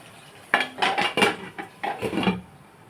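A lid set onto a pot of brinjal (vankaya) curry on the stove, a burst of close metallic clanks and rattles as it settles, then brief clinks before fading, with no talking.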